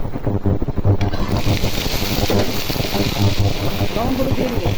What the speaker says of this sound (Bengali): এখন পটলগুলো ফেলে দিব।